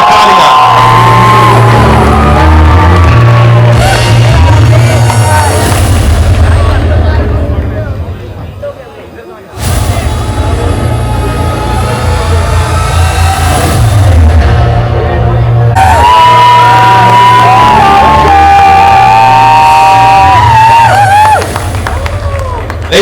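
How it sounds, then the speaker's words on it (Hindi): A crowd at a film trailer launch event claps and cheers loudly in a sustained roar with whoops, dipping briefly mid-way before surging again, while an amplified host speaks over it. "जोरदार तालियां."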